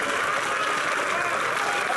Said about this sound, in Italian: mi chiamate forte con un applauso Martina e Camilla.